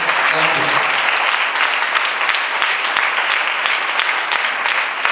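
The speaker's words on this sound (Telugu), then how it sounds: "చప్పట్లు కొట్టి దేవుని నామాన్ని." A church congregation claps in praise during a sermon, dense sustained applause from many hands filling the room, loud and continuous throughout.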